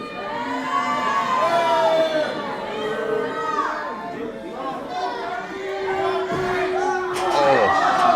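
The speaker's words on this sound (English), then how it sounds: "A massive crowd on hand here tonight to see this match and indeed this show." Large arena crowd at a school wrestling show cheers and chatters, a busy mix of shouts and excited voices with a louder swell near the end.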